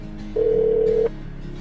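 An outgoing call rings through a Chevrolet MyLink hands-free car system: a single steady ringback tone lasting under a second, loud and close over a low cabin hum.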